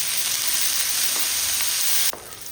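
Onion and a large tomato fry together in a pan, a loud, dense, close sizzle that runs steadily for about two seconds and then suddenly falls to a much softer hiss.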